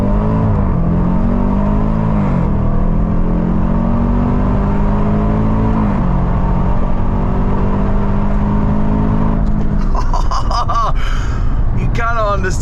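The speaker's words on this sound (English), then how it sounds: "this Range Rover SVR, which has got 5 litre V8 supercharged engine, but listen to this." A Range Rover SVR's 5-litre supercharged V8 revs hard repeatedly, its pitch rising and falling in loud, close sweeps, ending in crackling pops from the exhaust.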